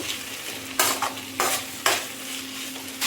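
Chopped tomato and green chilli frying in a hot pan, a low steady sizzle broken by several loud bursts of stirring and scraping, close up with no talking.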